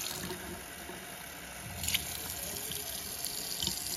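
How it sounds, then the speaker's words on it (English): Water runs steadily from close by into a baby bottle, a soft continuous splashing pour with faint drips and no talking. "two full scoops of water, also right into the bottle"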